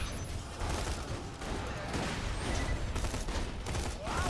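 Maya's gun from Borderlands 2 fires in a dense, steady stream of shots, loud and close, with no voices over it.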